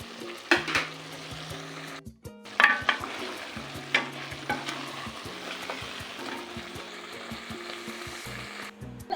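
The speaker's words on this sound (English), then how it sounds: "Then my scallions and stir very well to combine." Scallions are stirred into oxtail stew frying in a pot, with a low steady sizzle under repeated scraping and clinking of a spoon against the pot, close but moderately quiet.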